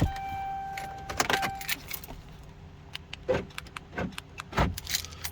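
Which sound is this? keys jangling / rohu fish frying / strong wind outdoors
keys jangling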